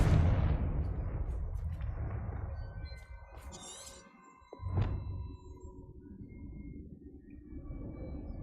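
A Confringo blasting spell goes off in Hogwarts Legacy, a loud boom that rolls off into a long fading rumble, followed by a sharper magical crack and a lighter lingering hum.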